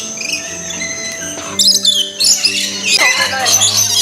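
Shrill parrot squawks burst out loudly and close at the World Parrot aviary of KL Bird Park in Kuala Lumpur, coming in clustered calls over background chatter and crowd noise.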